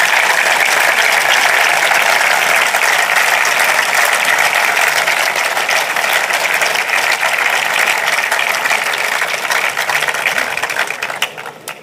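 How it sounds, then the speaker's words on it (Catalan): A large crowd at a political campaign rally in Tarragona claps loudly and continuously in dense, sustained applause that trails off at the end. "Demano per ells un fort aplaudiment de reconeixement."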